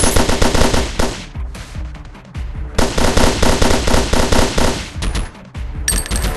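Rapid automatic gunfire rips out in loud, dense bursts, with a brief lull near the middle and another short gap before the volleys resume close and sharp.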